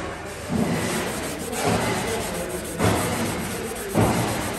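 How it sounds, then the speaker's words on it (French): Sanding sponge of 500 grit worked by hand over car paint, giving a close, steady rasping rub in repeated strokes that swell roughly every second or so. "C'est une éponge, je ponce au 500."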